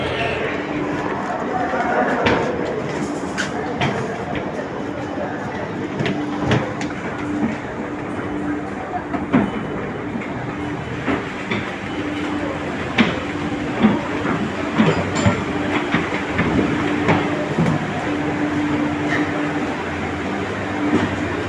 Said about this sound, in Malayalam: അങ്ങനെ നമ്മളവിടെ കാത്തിരുന്ന് നമ്മളെ മെട്രോ എത്തിയിട്ടുണ്ട്.